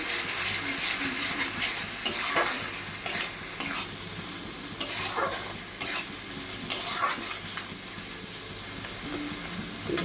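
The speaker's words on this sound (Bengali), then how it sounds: "মশলাটাকে ভালো করে কষিয়ে নিয়ে মশলা দিয়ে তেল ছাড়া উঠি।" A paste of onion, ginger and garlic with Kashmiri chilli powder fries in oil in a pan, giving a steady close sizzle broken by repeated scraping stir strokes, with no one talking.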